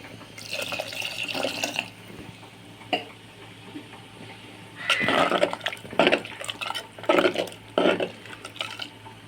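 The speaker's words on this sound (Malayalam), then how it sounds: "അപ്പോൾ നമുക്ക് കുറച്ചുകൂടെ വെള്ളം ഒഴിക്കാം." Water poured into a pot of sambar for a sadya meal, heard as a few splashing, gurgling bursts with quieter pauses between them, fairly close and with no talking.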